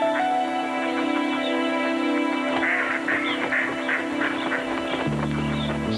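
Ducks and geese quack and honk in a loud, busy flock on a frozen winter runway, repeated overlapping calls close by with a steady drone behind them.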